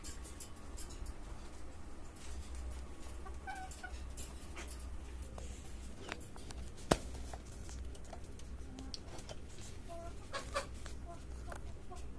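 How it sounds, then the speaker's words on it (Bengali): Native Bengali hens on a poultry farm cluck softly and intermittently against a constant outdoor hum, with one sharp click partway through. "এখানে আমার এই দুইটা দেশি মুরগি আছে"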